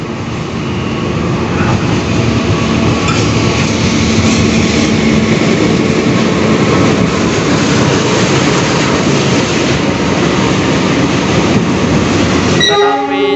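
Passenger train on the Cikuray service from Garut, riding the Kiaracondong to Jatinegara stretch, rumbling steadily along the rails from inside, a loud continuous roar with rattling carriages, ending in a sharper burst of noise.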